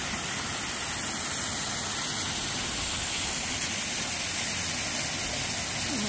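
Water from a small stream or cascade beside a hiking trail rushes in a continuous broadband hiss, steady and fairly close, with no talking.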